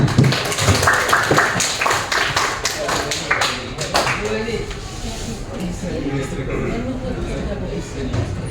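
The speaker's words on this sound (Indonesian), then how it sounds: "kita beri tepuk tangan untuk kawannya" Classmates in a classroom clap their hands for the winners of a pretest ranking, a steady patter of hand claps that runs throughout, mixed with voices talking over it.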